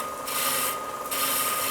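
A tool grinding away ash wood to raise ridges in the grain, giving a steady, close rasping scrape in two continuous passes with a brief lighter dip between them.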